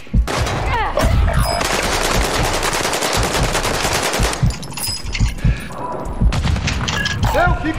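Rapid automatic gunfire in the video game Call of Duty Warzone 2.0, loud sustained bursts with booming shots and thuds, breaking into scattered shots later, with a voice talking between the bursts.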